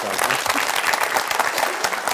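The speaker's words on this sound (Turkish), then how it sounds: "Bir alkış rica ediyorum." A studio audience applauds steadily for over two seconds after a guest is congratulated on a talk show; dense, close clapping with no break.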